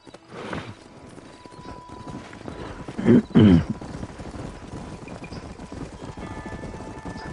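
Horse in the video game Red Dead Redemption: hooves clip-clop close by and the horse gives a loud whinny and snort midway, over low game ambience.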